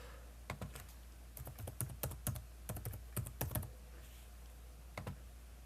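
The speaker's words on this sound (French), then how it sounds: "Entrez le numéro d'élève dans la barre de recherche prévue à cet effet." Someone types a student number on a computer keyboard, with quiet, close key clicks in short bursts and a pause before a final couple of taps over a low steady hum.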